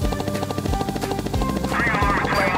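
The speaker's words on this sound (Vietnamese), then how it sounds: "cảnh sát lại tiếp tục gọi điện nhờ đến sự trợ giúp của máy bay trực thăng kia" A toy helicopter sound effect whirs with a steady rapid rotor chop, fairly loud and continuous, during a toy vehicle rescue of an off-road truck stuck in mud, with a voice speaking over it.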